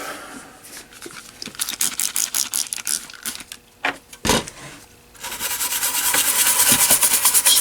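A brush scrubs flux off a 1981 Sega Frogger arcade circuit board, steady close rasping strokes that pause briefly and then become a louder continuous scrubbing rush, no talking.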